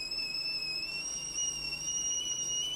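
A thin, steady high-pitched whistle holds for a few seconds, like a voice imitating wheezy breathing, fairly quiet and unbroken.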